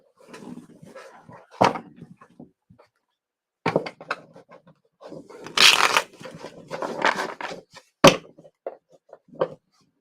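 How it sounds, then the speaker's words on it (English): A deck of tarot cards being shuffled, several separate bursts of riffling and flicking close up, with quiet pauses between them and a soft voice at times. "I'm going to shuffle more."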